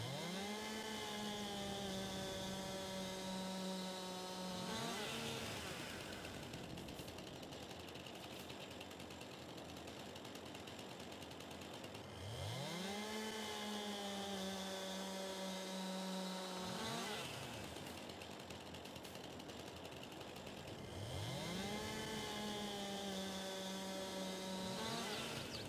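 Chainsaw in Farming Simulator 22 cutting up a felled tree, with three repeated cutting cycles, each rising from a low idle into a loud high-pitched whine and then dropping back, along with steady engine drone throughout.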